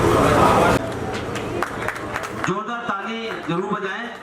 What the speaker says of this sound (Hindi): जोरदार ताली जरूर बजाएं